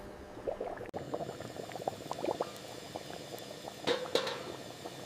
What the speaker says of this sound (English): Juicy pork meatballs simmering slowly.